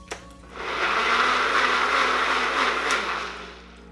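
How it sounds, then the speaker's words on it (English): An electric blender pureeing apple and pear into baby sauce, a loud steady whir lasting a few seconds, starting after a short click and dropping in pitch slightly at the end. "so I'm gonna blend, or puree as some would say"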